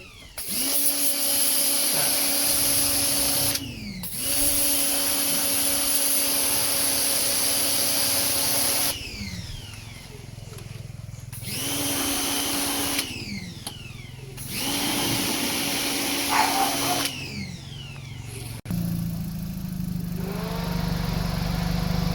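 A loud, whining air blower blows dust off a Suzuki Ciaz car radiator in several long bursts with brief pauses between, the motor pitch dropping as each blast stops.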